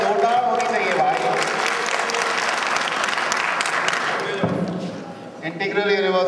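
Loud crowd applause from an audience at a voter awareness program in Lucknow, a dense burst of many hands with some thumps, tapering off before a voice and scattered claps resume near the end.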